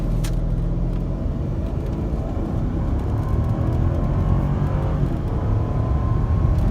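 A 2013 Mercedes GL450 SUV accelerates hard from a launch, its engine note a steady, loud rumble and roar that builds over several seconds from inside the cabin, with no talking.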